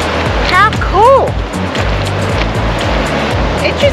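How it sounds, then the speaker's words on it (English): Churning ocean surf surges against the rocky Kaikoura coast in New Zealand, a loud steady wash with chopping swells, while a person talks over it. "Fingers crossed, but they're pretty good waves. It's like a washing machine out here."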